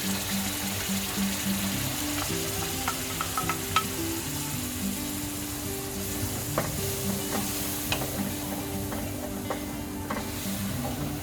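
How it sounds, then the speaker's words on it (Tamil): Ground masala paste frying in hot oil in a pan for a Punjabi-style chicken gravy, a steady close sizzle broken by sharp ticks and spatters with a faint low hum beneath. "எண்ணெய் ஹீட் ஆனதுக்கப்புறம் நம்ம அரைச்சி வச்சுருந்த பேஸ்ட்டை அது உள்ளே சேர்த்துட்டு நல்லா"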